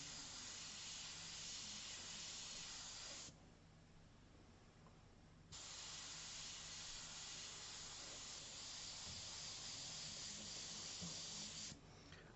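An airbrush fires a test spray before oil portrait work, a steady hissing rush of air that briefly drops off and resumes, continuous and close.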